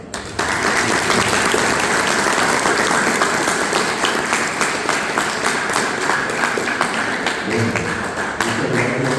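Sustained applause from an audience at a school event at Escuela Básica Manuel Ortiz Guerrero in Asunción, dense steady clapping that carries on loudly without a break for the full stretch.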